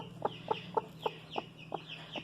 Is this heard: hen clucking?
yes